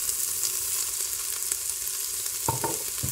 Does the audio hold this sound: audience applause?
no